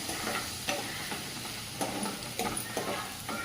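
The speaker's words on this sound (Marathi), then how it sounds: "हा बारीक चिरलेला कांदा आहे तो टाकून देत आहे हिंग कांदा चांगला परतून घेऊया" Finely chopped onion with asafoetida and curry leaves frying in a pan, a dense, close sizzle broken by several stirring clinks and scrapes at irregular intervals.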